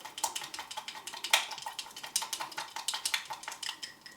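A propolis and alcohol mixture is stirred vigorously in a container, giving a quick, steady run of light clinks and scrapes from utensil against vessel, fairly quiet and close, with no speech.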